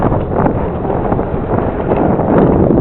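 Strong wind buffets the microphone outdoors beside a Hobbyking Funfighter F4 RC plane flying in 10 mph winds, a loud continuous low rumble that surges in gusts throughout, with no talk.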